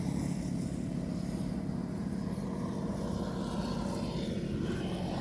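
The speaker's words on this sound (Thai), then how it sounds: "มาเสียงรถเยอะจังเลย เสียงรถเยอะจังเลย" A steady low engine rumble and roar of passing vehicles, continuous and fairly loud throughout, with no talking.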